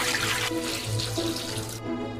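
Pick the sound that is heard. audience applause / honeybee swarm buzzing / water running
water running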